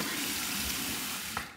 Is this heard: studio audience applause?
no